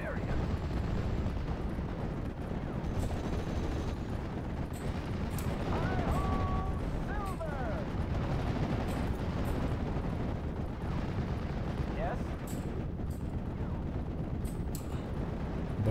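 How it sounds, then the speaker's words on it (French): Rapid bursts of machine gun fire and distant artillery rumble steadily through a World War II battle in the strategy game Steel Division, set around Sainte-Mère-Église, with brief tonal whistles overhead. "cette mitrailleuse elle commence à m'emmerder"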